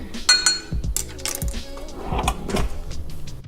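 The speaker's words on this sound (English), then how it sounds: "I will be putting some ice in here." Ice cubes clink and tumble into a cup for homemade hibiscus elderberry iced tea, a quick burst of several sharp, bright knocks followed by softer rattling, close and fairly loud.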